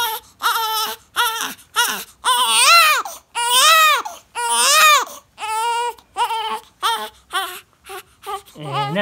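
An infant cries in repeated loud wailing bursts with short breaths between, rising and falling in pitch, close to the listener and fussing for a diaper change.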